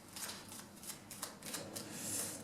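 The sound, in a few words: shuffling a deck of cards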